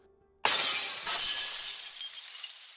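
A mirror shatters with a sudden loud crash after near silence, the glass breaking into many pieces and its bright crackling tinkle trailing on, with a second burst of breakage about half a second in.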